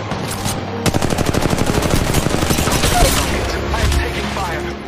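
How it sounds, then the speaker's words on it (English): Bursts of rapid gunfire from the Apex Legends video game, dense automatic shots rattling close and loud for several seconds, with a brief pause near the start and heavy overlapping reports throughout. "Shots fired at me."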